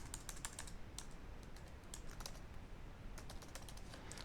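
Computer keyboard typing, a quick run of light key clicks in uneven bursts over a low steady room hum, close and fairly soft.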